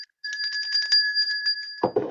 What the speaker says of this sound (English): Give him another bell ring, Joe.